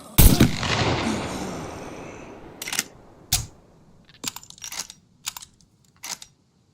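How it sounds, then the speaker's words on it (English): Unsuppressed SVD rifle fire in the survival video game SCUM. One loud, booming shot rolls into a long fading tail, then several sharper, shorter cracks follow at uneven gaps. "it sounds like an unsuppressed SVD"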